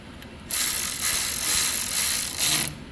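A ratchet tightens fasteners on the dual-barrel carburetor of a Kohler engine, giving a close burst of rapid metallic clicks that runs for about two seconds with brief pauses between strokes.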